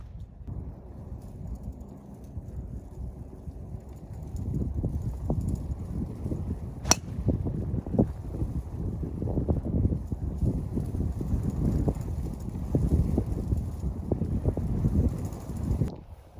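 Wind buffets the microphone outdoors on a golf course at Sand Canyon Country Club, a low rumbling roar with gusty swells that rises and stays strong, with a single faint click partway through.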